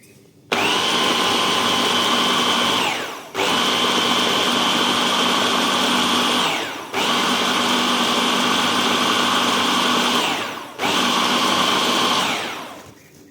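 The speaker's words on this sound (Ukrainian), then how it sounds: "І тепер ту цибулю переб'ю ще з яйцями." An electric blender whirring loudly as it beats chopped onion with eggs for belyashi dough, running in four long steady bursts with brief pauses between them and winding down at the end.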